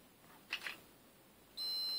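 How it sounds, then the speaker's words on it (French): A multimeter on continuity mode gives a loud, steady electronic beep while testing carbon brush terminals. The beep starts abruptly after a quiet stretch with a couple of faint clicks and then holds. "voilà, mon multimètre fait bip bip"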